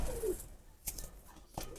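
A crested Teddy breeder pigeon gives a single short, soft coo nearby, followed by faint scattered clicks and rustles in a quiet setting.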